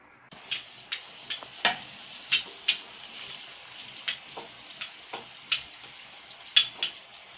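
Puri frying in ghee, a soft steady sizzle broken by scattered sharp pops and crackles at an uneven rhythm, heard close and fairly quiet with no talking.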